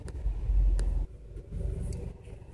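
Steady low rumble of road traffic and a car engine on a morning drive, loud and close for a second, then softer and rolling, with no talk over it.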